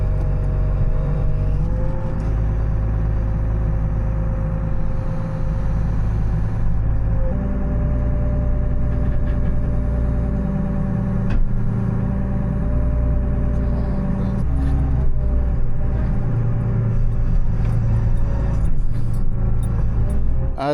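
A loader's diesel engine drones loud and close without a break while it unloads an old truck and car, its pitch shifting as the machine works under strain.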